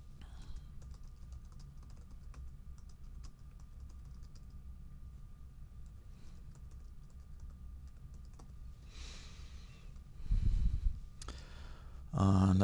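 Keys clatter on a computer keyboard in quick, irregular bursts, a steady close tapping with a few louder knocks near the end and no talking.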